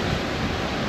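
Steady, full rush of a swollen river during a stormy camping trip, loud and close with no pauses or talk.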